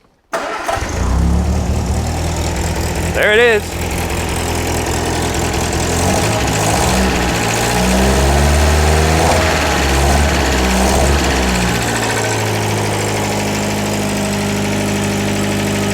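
A 1953 MG TD engine cranks briefly, catches and settles into a steady low idle that runs for about fifteen seconds, close and loud, with a short spoken remark near the start.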